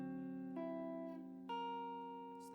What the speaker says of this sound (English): so that's the sound of a sharp 5th,